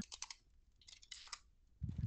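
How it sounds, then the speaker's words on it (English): Keyboard typing picked up through a voice-chat microphone in a Roblox game, faint clusters of quick clicky keystrokes in short bursts with gaps, ending in a low rumbling thump. "I can hear you typing through your mic"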